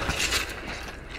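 A weapon being reloaded in Apex Legends Mobile, a steady run of close mechanical clicks and rattles with no talk over it.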